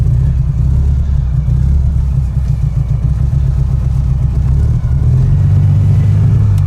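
A vintage Panhard PL17 engine idles steadily nearby, a loud, even low rumble that holds without pause for the whole stretch.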